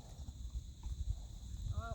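A horse's hooves clip-clop in an irregular rhythm on hard ground at moderate distance, with a steady hum in the background.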